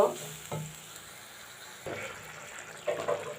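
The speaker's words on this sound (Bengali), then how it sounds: "ভালোভাবে মশলাটা পানি দিয়ে কষাই নিব।" Spices fry in a pan with a little added water, giving a soft continuous sizzle broken by several scraping stirs of a spoon that come in irregular bursts.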